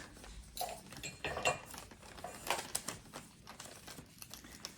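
Wrapping paper crinkles and rustles as a gift is unwrapped during an unboxing, with scattered close, faint crackles and light clinks coming in irregular bursts.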